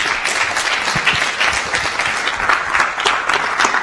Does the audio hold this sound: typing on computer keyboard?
no